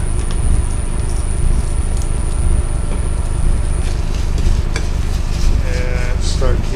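Barbecue sauce mixture being stirred in a pot for a pulled roast beef sandwich, a continuous close scraping and swishing with occasional light clinks, loud and steady throughout.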